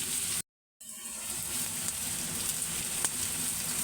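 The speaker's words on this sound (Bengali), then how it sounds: "রোস্টের পেঁয়াজটা আমি একটু ভেজে দেই, নেড়ে দেই" Onions and meat frying in a pan for a roast, a close steady sizzle and crackle with a brief dropout near the start, continuing evenly with small pops.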